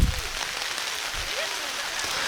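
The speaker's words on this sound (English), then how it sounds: "The wind has increased. The rain has increased." Heavy rain driven by wind pours down at an outdoor boys' varsity lacrosse game, a dense, loud, steady hiss with faint voices underneath.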